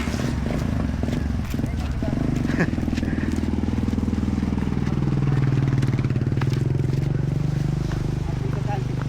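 A boat's engine runs throughout in a steady low drone, loud and close, with clattering knocks and some voices talking over it.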